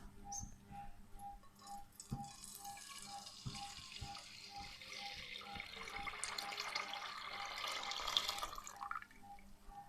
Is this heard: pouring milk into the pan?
yes